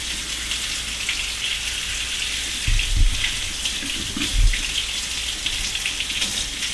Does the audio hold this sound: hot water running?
yes